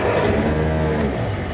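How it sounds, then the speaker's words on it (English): A 1945 Willys MB jeep engine starts and runs, a loud, steady mid-range rumble with rough vibrating texture throughout, close by and without talk. "First the key, the ignition, and then a special foot pack to start the car."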